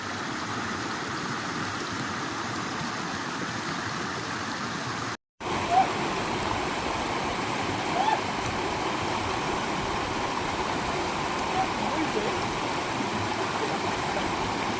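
River water rushes in a steady broadband wash as hikers cross a river in the Scottish Cairngorms. The flow stays loud and constant apart from one brief cut, with a few faint splashes or knocks but no clear talk.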